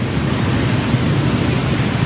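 Water pours steadily down an aquarium waterfall display in a dense, loud, unbroken rush of splashing and hiss, heard close with no voices over it.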